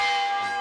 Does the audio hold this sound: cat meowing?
no